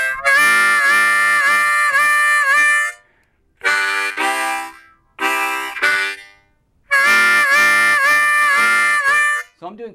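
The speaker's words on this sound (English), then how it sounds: "I'm doing quick bends up on every one of those 4 draw" A blues harmonica lick with quick upward bends on the 4 draw, played in loud, bright phrases separated by short pauses, with no talking.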